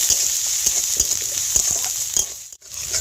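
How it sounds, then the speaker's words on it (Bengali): Garlic paste and chopped onion fry in a pan, giving a steady close sizzle with bright crackle and repeated soft scraping stir strokes, briefly dipping quiet near the end. "অল্প পেঁয়াজ কুচি দিয়ে দেব। একটু ভালো করে ভেজে নেব।"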